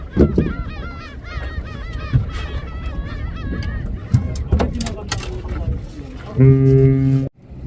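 Gulls calling repeatedly nearby from a fishing boat at sea, in wavering, squealing cries, with people talking, and a loud, steady horn-like tone near the end.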